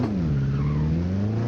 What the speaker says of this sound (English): Let's hear some shifts. I want to launch it.